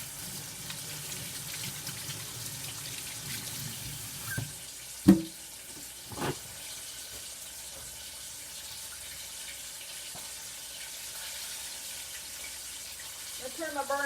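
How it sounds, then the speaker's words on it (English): A tap runs steadily as hands are washed at a kitchen sink during a crappie fish fry, a soft continuous splash with a few brief knocks and clatters partway through. "Wash my hands."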